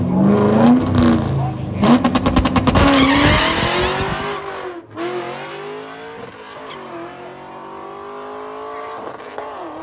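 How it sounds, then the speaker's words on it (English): A stick-shift drag car with a 180-degree header roars and revs while its tires spin, squealing and screeching on pavement, loud and sustained, with a voice talking over it. "They threw some power at it that time, and the car spun the tires"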